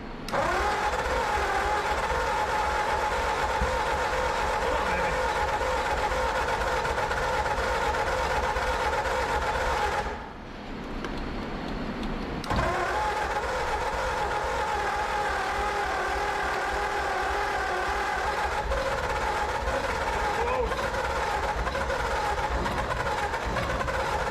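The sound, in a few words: starter cranking 1935 Ford flathead V8 engine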